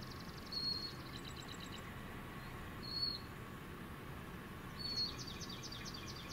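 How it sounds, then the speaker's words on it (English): A swamp sparrow sings outdoors in short bursts of rapid, trilled notes, faint and distant over a steady low background hum, with three brief high-pitched phrases spaced a couple of seconds apart. "Just did hear a swamp sparrow."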